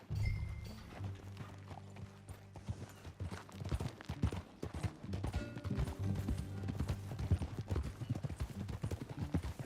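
Hooves clip-clop in a rhythmic, fairly quiet pattern as a horse is ridden in Red Dead Redemption 2, set over soft musical tones that run underneath.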